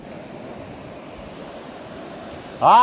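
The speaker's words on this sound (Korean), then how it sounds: "바다가 지금 파도가 파도가 진짜 좀 강해가지고 지금 다 밀려왔어요" Strong sea waves wash steadily onto a swimming beach in a continuous surf roar, with a loud burst of wind or water noise at the very end.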